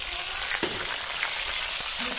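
Tilapia fish fry lightly in oil for a spicy tilapia dish, producing a continuous close crackling sizzle punctuated by a few short clinks or scrapes of a utensil.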